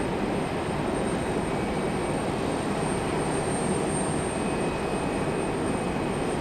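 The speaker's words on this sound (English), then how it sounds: "We'll only catch a little bit of our Gulfstream coming in." A Gulfstream business jet descending to land at Raleigh Durham gives off a steady, even roar of engine noise, holding at a constant level throughout without any talk.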